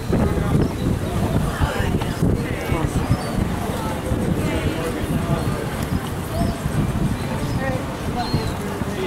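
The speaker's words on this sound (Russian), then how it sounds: "Ну сейчас, конечно, такой ветер, я бы не стала рисковать на таком ветре." Strong gusty wind buffets the microphone by the water near drawbridges, a continuous loud rumbling roar with constant fluctuation, mixed with faint background voices.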